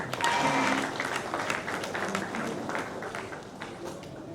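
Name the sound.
audience applause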